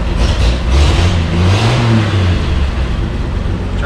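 A 1958 Chevy Apache pickup truck engine runs loud and close while driving, a low throbbing rumble that swells as it revs, then settles into a steady drone with some mechanical clatter.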